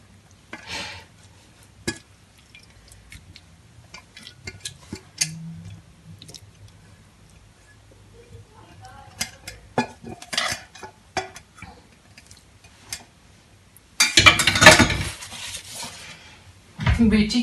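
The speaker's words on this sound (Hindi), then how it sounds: "तो उसके लिए अब मैं अलग बनाऊंगी बाउल में और अपने लिए अलग मसाला डालूंगी" Masala being stirred in a bowl with a spoon, producing soft intermittent scraping and clinks of utensil against the bowl, fairly close and quiet, with a louder burst of rustling scraping near the end.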